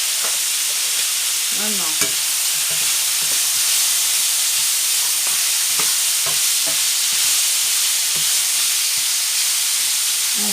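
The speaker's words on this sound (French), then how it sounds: "La viande continue à cuire." Pork spare ribs sizzle in a pan, a steady frying hiss with occasional crackles and stirring scrapes; someone says a word briefly.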